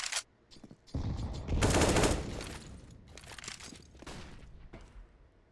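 Desert Eagle pistol fire during a Counter-Strike match: a few sharp, loud shots in quick succession followed by scattered, quieter gunfire and game noise, with no talk.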